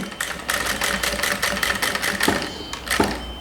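A sewing machine runs a steady seam on a porta escala (scale holder) piece, a fast, even mechanical chatter with slight pulsing that carries on without pause, close and fairly loud, with no talking.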